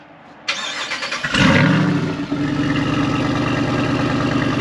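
A Jeep Wrangler Unlimited Rubicon's V8 engine cranks and roars to life with a loud burst, then settles into a deep, rumbling idle that continues steadily.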